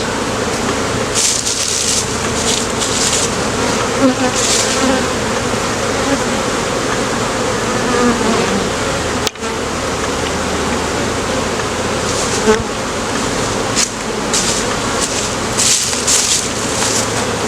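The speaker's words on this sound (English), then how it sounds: "there's so many bees on it" A dense swarm of honeybees on a hive frame hums loudly and continuously close by, with occasional brief clicks and knocks over the steady drone.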